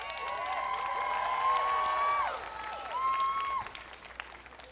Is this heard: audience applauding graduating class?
yes